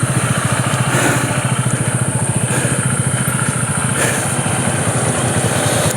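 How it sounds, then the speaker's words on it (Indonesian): A motorcycle engine labours loudly and close on a steep uphill road during the Ijen King of Mountain climb in Banyuwangi, a steady throbbing low drone with a fast pulsing rhythm that barely changes throughout. "Luar biasa, motor"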